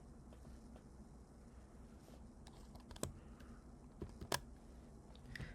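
Quiet typing on a computer keyboard, a light scatter of soft key clicks with a few sharper taps near the end, close but faint against a low room hum.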